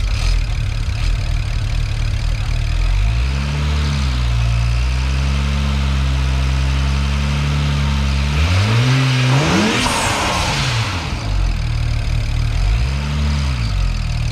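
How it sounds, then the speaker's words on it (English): A turbocharged BMW N54 engine in a 335xi idles steadily up close with a busy mechanical ticking from noisy injectors, briefly revving up a few times before settling back. "these injectors on here are pretty noisy, regardless of what they are"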